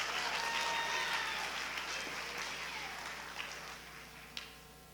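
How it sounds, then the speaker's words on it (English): An audience applauds at a National History Day awards ceremony, a dense, steady clapping that slowly thins and fades over several seconds. "so give them a round of applause."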